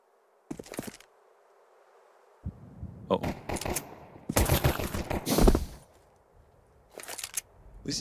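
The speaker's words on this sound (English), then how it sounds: "A few Glock shots." Counter-Strike 2 Glock pistol shots crack out in several short bursts, separated by quiet gaps, with the densest flurry in the middle and another near the end.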